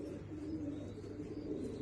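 Crested and banded pigeons cooing together in a continuous low, throaty murmur, close and steady.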